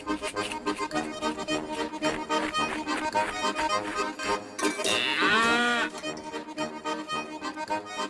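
A cow in a Kazakh animated cartoon gives one clear, drawn-out moo partway through, rising above a busy, continuous musical score.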